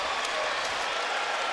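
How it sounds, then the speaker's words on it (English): A sellout basketball arena crowd gives the Chicago Bulls a standing ovation, dense sustained applause filling the space evenly from start to finish. "Bulls receiving a standing ovation from the sellout crowd."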